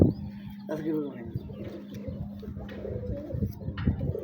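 A male breeder pigeon held in hand coos softly with low, throaty rolling calls while people talk nearby over it.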